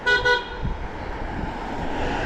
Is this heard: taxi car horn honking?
yes